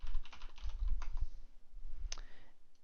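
Someone types on a computer keyboard, a quick patter of key clicks in short bursts with brief pauses, close and fairly quiet.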